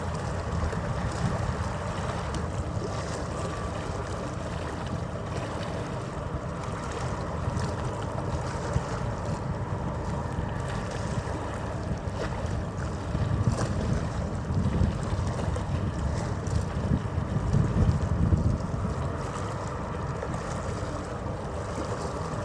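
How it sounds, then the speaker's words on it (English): A ferry far out on open water, heard as a low, continuous engine rumble mixed with gusting wind buffeting the microphone and a soft wash of water, swelling slightly toward the end. "The ferry's now quite some distance"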